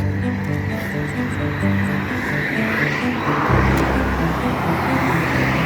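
Cars on a street at night, a continuous engine hum and tire roar as vehicles pass close by, swelling louder near the end, with a voice speaking over it.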